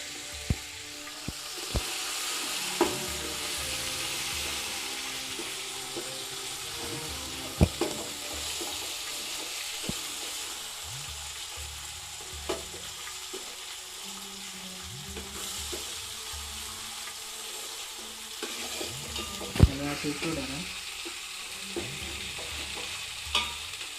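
Ginger, garlic and spice pastes frying together in hot oil over a medium flame for aloo chole biryani, with steady broadband sizzling and a few sharp spoon clinks and scrapes against the pot.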